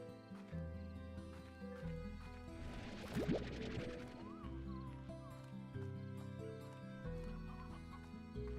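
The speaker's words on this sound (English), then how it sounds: "There's chickens around here somewhere" Chickens cluck in the Slime Rancher video game, soft repeated clucks and a brief flurry of squawks mid-clip over steady background music, fairly quiet overall.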